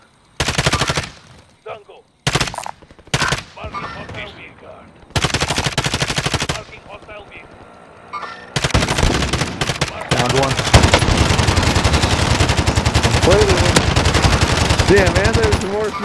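Gunfire in the video game Call of Duty: Modern Warfare, with bursts of rapid automatic shots broken by short pauses, then sustained heavy firing through the second half, mixed with in-game noise.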